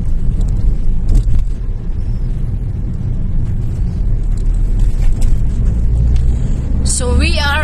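Car traffic rolls through the streets of Bucharest, Romania, heard from inside a vehicle as a steady low rumble, with a person talking over it and a brief louder burst near the end.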